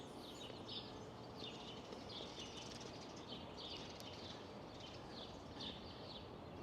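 Faint birds chirp at dawn on a quiet residential street, with soft repeated tweets scattered over a steady background hiss.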